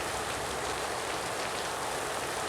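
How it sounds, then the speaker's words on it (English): Steady, dense rain from an outdoor scene in the film In the Mood for Love, an even wash of falling drops with no voices. "There's a scene where they are outside in the rain"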